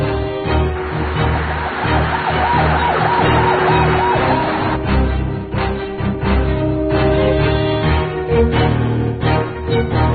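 An ambulance siren wails in a Korean drama scene, its rising and falling tone sounding over busy background noise, fairly loud and continuous.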